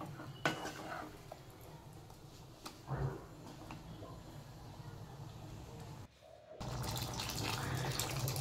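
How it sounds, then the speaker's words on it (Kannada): Water being poured into a pot of sambar made with sprouted lentils, a steady close pouring and splashing wash that grows louder and fuller toward the end, with a few small clatters and no talk. "ನೋಡಿ ನಾನು ನೀರನ್ನು ಆ್ಯಡ್ ಮಾಡ್ತಾಯಿದ್ದೀನಿ."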